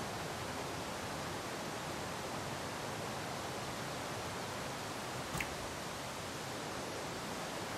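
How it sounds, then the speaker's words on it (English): A waterfall in the video game The Long Dark gives a steady, unbroken rushing roar, even and constant throughout, with no voices. "Oh, I hear a waterfall."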